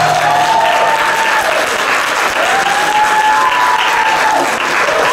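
Warm, continuous applause from a church congregation welcoming a speaker at a Black History program, a full steady wash of clapping hands with faint voices mixed in.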